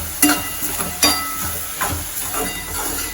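Food sizzles steadily in hot ghee in a pan while a utensil stirs and scrapes through it in several distinct strokes, close up.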